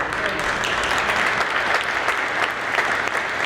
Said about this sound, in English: Clap for Dan.